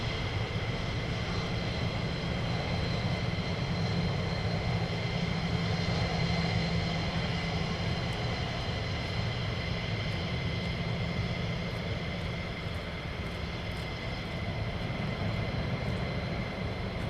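USAF fighter jets taxi toward the hold at RAF Lakenheath, giving a loud, steady jet-engine roar and whine that stays constant for the whole stretch with no break.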